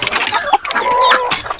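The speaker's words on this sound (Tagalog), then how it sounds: "Ayan po kasi yung mga sisiw oh." Chicks and chickens on a farm, with close clucks and high thin peeps in short bursts, one sustained chirping call standing out, loud and near without speech.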